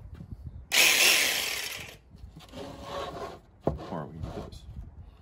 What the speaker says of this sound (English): You just drill a hole.